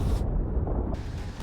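A critical explosion in the video game Vanquish, heard as a sustained, loud low rumble with dense crackling that persists across the whole moment, its top end briefly muffled in the middle.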